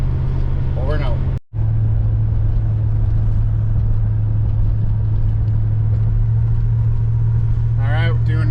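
A 1978 Dodge Diplomat with a faulty torque converter drones steadily while driving, a loud, even low rumble heard from inside throughout, with brief traces of a voice near the start and end.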